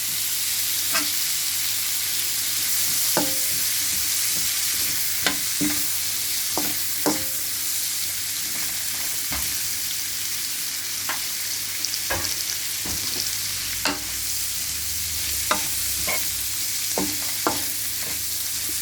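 A metal ladle stirs prawn, chicken and noodles frying in oil, with repeated sharp scraping clinks at an irregular rhythm over a steady, close sizzle.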